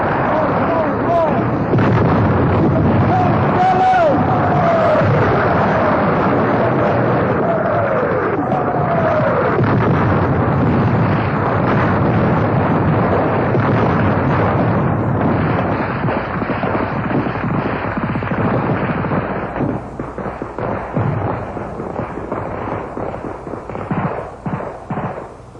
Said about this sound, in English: Camino, I want artillery on that hill, and I want it now.